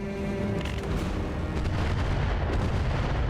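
Turret weapons fire on a Shadowhawk mech in the BattleTech game, a steady run of heavy booming blasts and rumbling impacts that fills the whole stretch loudly, with no talk over it.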